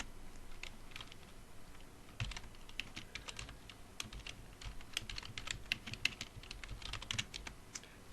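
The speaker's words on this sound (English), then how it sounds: "Notice I type the whole variable in lowercase." Steady typing on a computer keyboard while entering VBA code in Excel, a quiet run of close, irregular key clicks with occasional heavier strokes and no talking.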